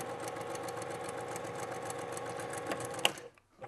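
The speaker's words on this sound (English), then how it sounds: "We're going to sew up here to the end." A sewing machine runs steadily while stitching a quilt seam, a close, continuous mechanical whir with a few clicks near the end before it stops and falls quiet.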